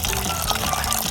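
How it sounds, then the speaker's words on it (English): Water pours steadily into a bowl of raw chestnuts, a continuous full splashing fill that stays loud and close for the whole stretch with no talk over it. "Fill the bowl with water until the chestnuts are submerged,"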